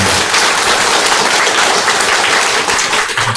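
A church congregation breaks into loud, continuous applause in celebration and welcome, a dense wash of many hands clapping close by without pause.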